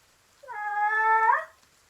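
An exotic animal noise made for a dog in a tabletop role-playing session, heard as one loud, drawn-out, tonal wail like a cat's meow, rising and falling over about a second.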